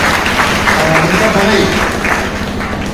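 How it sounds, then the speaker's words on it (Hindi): Applause from an audience at a local public gathering in Damoh, a steady, dense wash of clapping lasting the full stretch, with voices audible underneath. "मैं उससे पहले अपने एक सहयोगी के लिए एक बार जोरदार ताली बजाना चाहता हूं"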